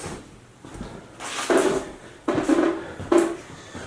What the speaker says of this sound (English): It's a fridge door.